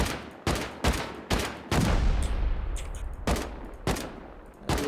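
Rapid bursts of gunfire from the survival video game Rust, with several loud sharp volleys spaced unevenly across the stretch and a dense rattle between them, heard with no talking.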